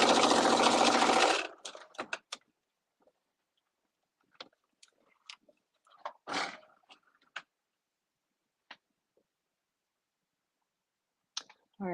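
Sewing machine stitching a garment seam, a brief fast whirring run at the start, then scattered soft clicks and handling taps as the stitching stops, close and quiet.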